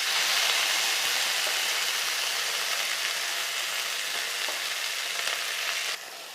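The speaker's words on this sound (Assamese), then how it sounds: "তেল অলপ বাকি দিছোঁ ঢেকীয়াখিনি আগতীয়াকৈ ভাজি ল'বৰ কাৰণে" Fiddlehead fern greens frying in hot oil in a kadai, a loud, dense, continuous sizzle close up that eases slightly near the end.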